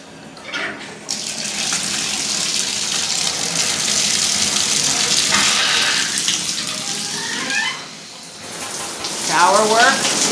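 Shower water runs steadily in a move-in apartment, a close continuous hiss and splash that rises and dips slightly, with faint squeaks of the valve near the end.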